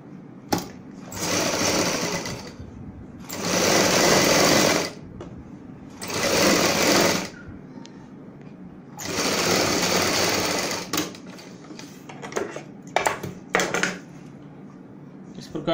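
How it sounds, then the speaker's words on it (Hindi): A sewing machine stitches a blouse back neckline in four loud, steady bursts of whirring, separated by pauses with light handling clatter. "यहाँ पे हम ऊपर से एक पैर चौड़ाई वाली सिलाई लगाएंगे।"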